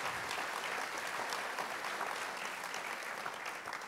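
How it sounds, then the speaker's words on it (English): Audience applause for the panelists at a live panel talk: dense, steady clapping from a crowd that fills the room, continuing evenly for several seconds with no voices over it. "can we have a round of applause for the wonderful panelists?"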